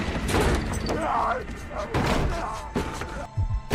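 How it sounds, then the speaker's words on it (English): A door is smashed open in a horror film scene, a series of heavy slams and thuds with crashing debris, loud and close, mixed with dramatic score and voices. "getting attacked by Pluto, who breaks through a door"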